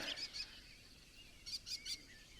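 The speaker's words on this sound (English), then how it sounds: "The birds are all going crazy." Birds chirp at sunrise at a tipi campsite near Devils Tower, Wyoming: a few quick high bursts of twittering, one at the start and a cluster of three more a second later, moderately close over quiet open-air background.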